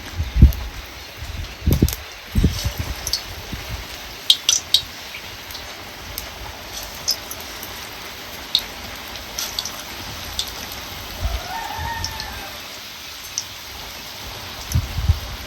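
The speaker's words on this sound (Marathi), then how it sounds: "तापलं तेल गरम झालेलं आहे आता भजी सोडूया ह्याच्यात" Crab bhaji dropped into hot oil and frying in a village-style kitchen during rain, a soft steady patter and crackle with scattered sharp clicks and taps, close and moderate in level.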